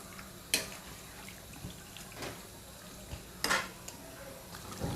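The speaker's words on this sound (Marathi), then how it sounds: "आता आपण हे छान परतवून घेऊया बघा छान असं परतवून घेऊया" Chicken is stirred and sautéed in a pan Malvani style, with a few sharp utensil clanks and scrapes against the pan over a faint low sizzle, close by and without talk.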